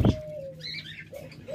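Caged birds at a budgerigar and dove seller call in short, close chirps and whistles, with a brief thump at the start.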